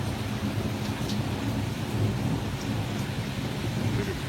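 Heavy rain pours steadily during a thunderstorm on a cold evening, with a dense constant wash of drops and low rolling rumbles of thunder throughout, close and loud with no voices.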